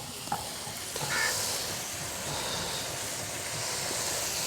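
Coriander, cumin and green chillies stirred into a sizzling karahi for Peshawari charsi karahi, a steady close frying hiss with soft scraping stir sounds throughout, no talking.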